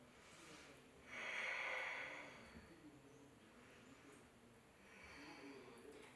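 Two slow, audible breaths taken while holding a yoga side plank during an intermediate vinyasa flow, each a soft airy rush, the first stronger and the second fainter, close to the microphone with no talk.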